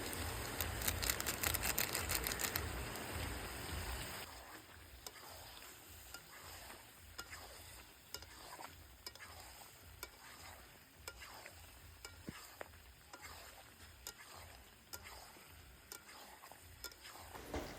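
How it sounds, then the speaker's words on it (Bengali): Turmeric and Kashmiri chili powder stirred in a frying pan, starting with a loud sizzle that settles into steady oil frying under repeated scraping strokes of a spoon, close and without speech. "কাশ্মীরি লঙ্কার গুঁড়োটা দিয়ে এবার আমি নাড়াচাড়া করে নেবো একটু"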